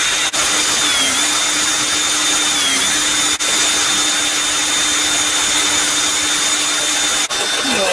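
A power drill with a 2.5 mm cobalt bit whines steadily at high speed drilling out stainless steel on a Lambretta scooter's flywheel cowling, a loud continuous grinding tone with a couple of brief dips as it bites.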